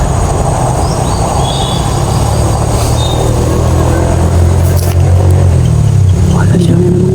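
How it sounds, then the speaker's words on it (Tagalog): A motor vehicle passes close by on a road during a nighttime outdoor recording, a loud, continuous low engine rumble that swells and shifts over several seconds, with a voice speaking over it. "Diyan na naman, sasakyan na naman"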